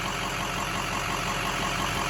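A 2007 Ford F-250 with a 6.0 Powerstroke diesel engine idles steadily up close, a continuous loud rumble with a faint rhythmic clatter and no voices.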